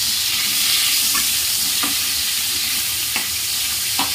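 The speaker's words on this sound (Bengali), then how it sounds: "ভাজা করছি একটু ভাজা হয়ে গেলে" Three chicken leg pieces fry in spiced oil for a chicken stew, giving a constant loud sizzle with a few soft scrapes of stirring and no talk.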